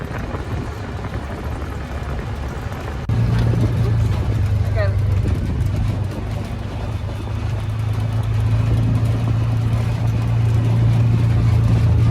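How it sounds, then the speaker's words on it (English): An ATV engine hums low and steady while driving near Yellowstone National Park, with a louder step up partway through over broad wind and road rumble. Voices can be heard faintly in the background. "Letting our son drive the ATV."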